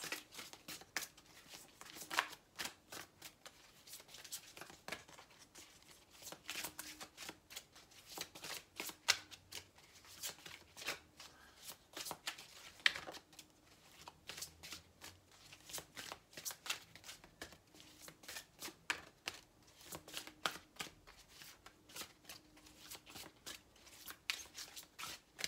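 Tarot cards being shuffled by hand, a long stretch of soft, repeated riffling and flicking bursts at a quiet level, with no talk.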